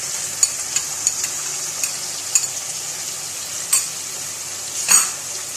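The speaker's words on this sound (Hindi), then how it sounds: "साथ ही हम इसमें लहसुन, अदरक और टमाटर जो हमने पीसा था, और हरी मिर्चें, ये जो पेस्ट हमने बनाया था, ये साथ ही हम इसमें ऐड कर देंगे।" A paste of garlic, ginger, tomato and green chili fries in a pot with chicken and pumpkin, making a soft steady sizzle marked by several spoon clinks and scrapes against the metal, near and clear, with no talking.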